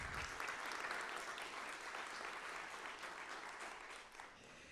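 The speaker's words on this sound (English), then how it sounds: "So another round of applause for Sam and Khushi." An audience gives a sustained round of applause for two student presenters at an innovation awards showcase, steady dense clapping that fades slightly near the end, with no talk over it.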